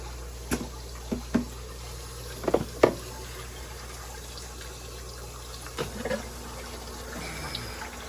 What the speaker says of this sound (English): Put the hose in my water pails.